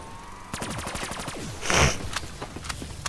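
A barrage weapon in Black Ops 3 Custom Zombies firing a rapid volley of sharp automatic shots, followed by a loud blast and a few scattered later shots, fairly close and without talking.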